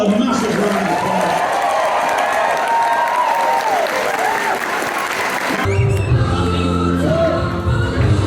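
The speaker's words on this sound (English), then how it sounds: "Give them all a massive round of applause." Convention audience at a fan event bursts into sustained applause with cheering and whoops, loud and dense throughout, shifting mid-way as the crowd noise continues alongside a low musical or rumbling bed.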